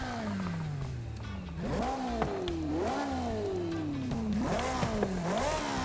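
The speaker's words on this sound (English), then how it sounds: "Let's get a good sound of the stock exhaust." A Japanese racecar on its stock exhaust in Forza Horizon 5 revs up and down repeatedly, the engine note rising and dropping in several loud sweeping pulls with no talk over it.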